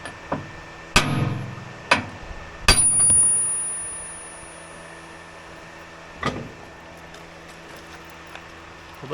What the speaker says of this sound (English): I've got a drift in there and a meaner hammer than I had to begin with.